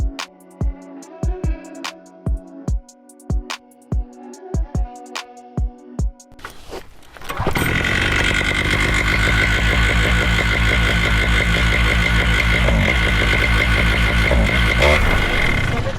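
A Moster paramotor engine idles after its low needle was closed slightly. Several sharp clicks and knocks come first, then the engine settles into a loud, steady, rough idle that runs continuously, close by.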